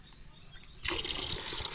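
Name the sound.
water being measured out by the glass for mixing fertilizer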